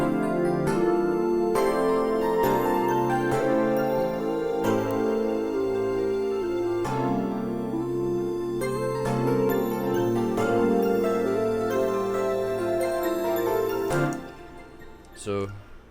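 Pluggnb melody with synths and strings layered together, playing a steady sequence of sustained chords and melodic notes at moderate volume before fading out near the end.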